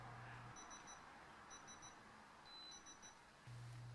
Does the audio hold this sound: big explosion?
no